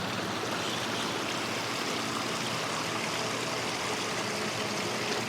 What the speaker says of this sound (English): And their waterfall.